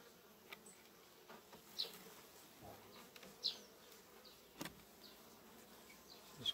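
Faint, steady buzzing from many honeybees on hive frames, a low continuous hum with a few brief higher zips as individual bees pass close.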